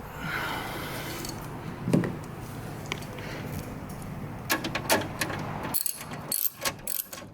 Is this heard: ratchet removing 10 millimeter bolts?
yes